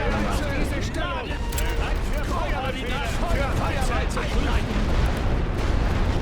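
Artillery fire in a Great War Western Front strategy game, with dense continuous rumbling booms and crackling bursts layered over battlefield noise and shouted commands, loud and unbroken throughout.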